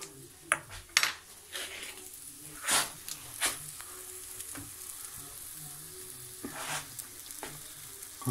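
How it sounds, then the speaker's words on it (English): French toast fries in a pan on the stove with a steady close sizzle, broken by scattered clinks and scrapes of a fork and utensils against the pan, with no talking. "Cooking on the stove."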